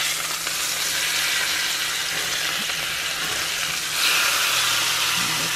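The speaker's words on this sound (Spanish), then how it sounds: "Así que las vamos a sellar bien nuestras pechuguitas" Stuffed chicken breasts, filled with asparagus and cheese, sear in a hot pan with a bright, continuous sizzle and crackle, close and steady, swelling louder near the end.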